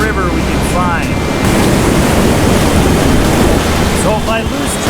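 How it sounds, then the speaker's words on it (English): Flowing river water at a calm stretch of river used for gold dredging: a loud, continuous rushing wash with wind buffeting the microphone, a few faint whistly tones, no speech. "this is the calmest spot of river we can find"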